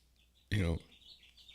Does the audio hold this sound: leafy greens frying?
no